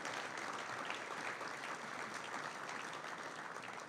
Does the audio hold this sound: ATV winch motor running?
no